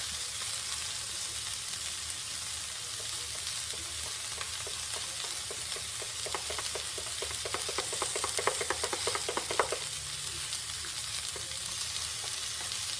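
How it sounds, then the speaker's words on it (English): Ranch seasoning being stirred into mayonnaise and sour cream in a bowl, heard as soft wet scraping with a quick run of rhythmic stirring strokes in the middle, set against a constant background hiss. "I'm going to take it and stir it into my mayonnaise and sour cream there."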